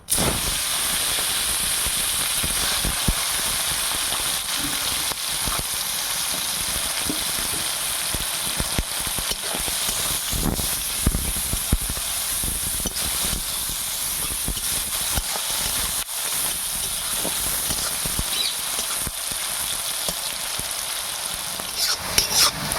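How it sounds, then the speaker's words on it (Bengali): Sliced onion and two dried red chillies fry in hot oil, giving a loud, continuous close-up sizzle and hiss with occasional stirring clatter and no voices. "এখন তেলের মধ্যে দুটো শুকনো লঙ্কা ফোড়ন দেবো আর পেঁয়াজটা দিয়ে দেবো"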